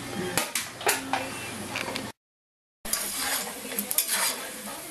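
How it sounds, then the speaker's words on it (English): Meat and potatoes browning in a pan over high heat give a steady dense sizzle with repeated scraping stirs and utensil clatter against the pan, broken by a short silent gap midway. "We crank this baby up on high. We're just trying to brown the outside now."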